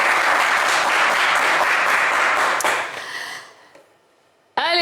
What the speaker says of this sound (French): félicitations, Kwaku, on vous applaudit.